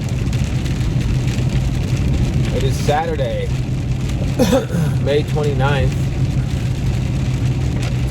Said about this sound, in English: It's raining like a SOB.